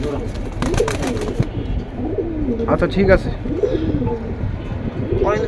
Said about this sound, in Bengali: পাকিস্তানি হাই ফ্লাইট কবুতর ভাই এটার দাম বেশি